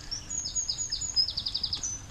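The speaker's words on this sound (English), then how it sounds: "lots of birds, as you can hear." Birds singing in a wooded section on a bright day, with repeated high, thin whistled phrases and quick descending trills, clear and moderately near over a low rumbling background.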